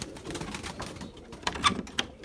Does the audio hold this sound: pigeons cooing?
yes